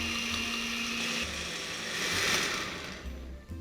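A blender whirs steadily with a high mechanical whine as it blends carrot cake batter, its pitch dipping and rising slightly as it runs, loud and close.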